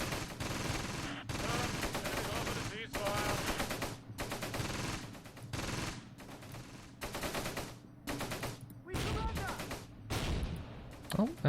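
Bursts of machine-gun fire and HE shell fire in the WWII tactics game Close Combat Gateway to Caen, coming in repeated short volleys, fairly faint, with someone talking between them.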